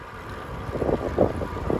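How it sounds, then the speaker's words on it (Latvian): Steady crosswind buffets the microphone with a low rumbling roar, gusting slightly stronger midway, with no voices. "Vējš ir tikai no sāniem, nevis pretī."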